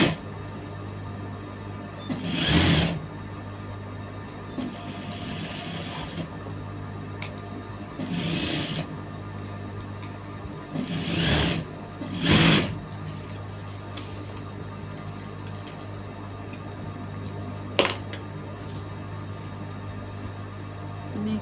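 A sewing machine runs in several short bursts, stitching canvas in a round shape for a lined top. The machine whirs loudly and then goes quiet between runs, over a steady low electrical hum.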